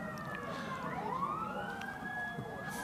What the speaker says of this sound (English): Now we hear the sirens.